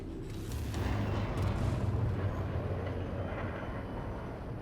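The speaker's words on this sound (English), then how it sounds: "Oh yes, one torpedo hit." A torpedo striking its target in Star Citizen, a deep rumbling blast with a sustained low roar that stays heavy and steady before slowly easing off.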